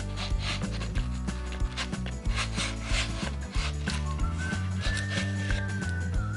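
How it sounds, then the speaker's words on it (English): Edge trimmer shaving overhanging veneer from a plywood edge, giving a steady scraping, rasping rub with quick rhythmic clicks. The sound is close and continuous. "Lastly, I'll take my edge trimmer"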